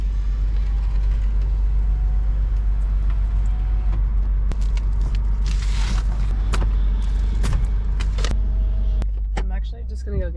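Car cruising along Interstate 81 in Virginia, a steady loud road and engine rumble with tire noise filling the whole stretch, a few brief clicks and knocks inside the cabin near the end.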